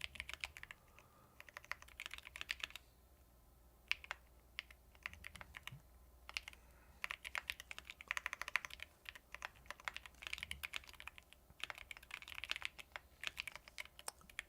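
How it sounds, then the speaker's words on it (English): Steady typing on a computer keyboard while writing code, with rapid clustered keystrokes in bursts and short pauses, close and clear, with no talking. "I don't know why I'm typing code in the comments"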